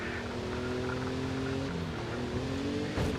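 Forza Horizon 5 car engine droning steadily as the vehicle drives, a continuous loud hum with shifting pitch and a brief rise near the end, no talk over it.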